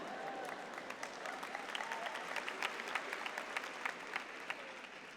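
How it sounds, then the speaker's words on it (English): Graduate commencement crowd applauding a speech, a broad, sustained sheet of clapping from a large audience in a big space, fairly distant and continuous throughout. "Thank you for applauding after each sentence that I make."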